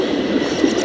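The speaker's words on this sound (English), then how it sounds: "A spring-operated locomotive" A spring-operated locomotive in Syberia rumbles steadily with a continuous rolling, clattering hum, loud and close, with no talk over it.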